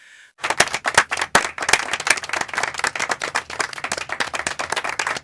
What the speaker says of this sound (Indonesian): Hikari menangkupkan kedua tangannya dan memberikan tepukan tangan yang tulus